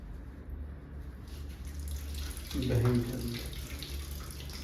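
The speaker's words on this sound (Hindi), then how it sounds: "मैं सिर्फ खुद के बर्तन साफ़ करूँगा, उनको यूज़ करूँगा, उन्हीं को धो के रख दूँगा" Tap water runs steadily into a sink while dirty dishes are washed, a continuous hiss with a brief louder splash near the middle, with no talk over it.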